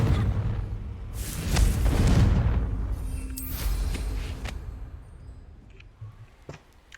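Confringo explosion spell in Hogwarts Legacy: a deep booming blast that swells and rolls for a couple of seconds, followed by scattered crackling debris and smaller impacts fading out, with no talk over it.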